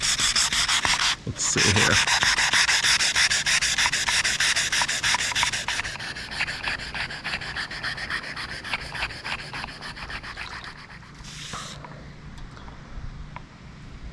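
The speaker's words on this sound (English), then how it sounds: "We're gonna have to wet sand this whole panel and see what we can find." Close, rhythmic rubbing strokes of wet sanding across a painted panel on a Knight Rider trailer, a steady scratchy back-and-forth that slows and fades near the end, with a brief spoken phrase early on.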